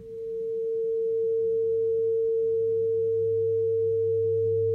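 An ER-301 synthesizer module producing a slowed envelope at half speed, a steady pure tone that swells in over the first moments and then holds evenly, alone and without talk.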